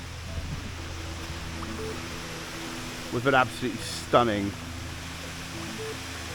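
Constant broadband rushing of a waterfall in Rio fills the background, with a person speaking briefly over it.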